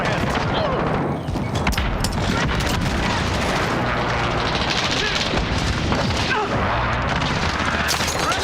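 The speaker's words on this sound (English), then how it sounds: "Enemy precision airstrike." Precision airstrike explosions in a first-person shooter video game: a dense, continuous barrage of loud blasts and gunfire rumbles without a break, with game voices mixed into the din.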